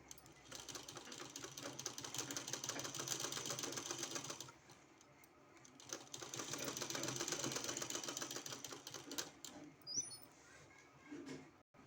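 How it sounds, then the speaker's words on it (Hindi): A sewing machine stitches a kurti collar in two long continuous runs of rapid needle clatter with a pause between, followed by a few faint handling clicks. "अब इसमें हमको सिलाई लगाना है इस तरह से बिल्कुल पेस्टिंग का बगल में।"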